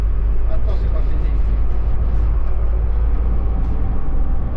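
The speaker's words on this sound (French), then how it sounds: "le camion, il fait pas tant de bruit que ça" Truck rumbling along a road in a Moroccan valley, a low steady engine drone heard from inside with people talking over it.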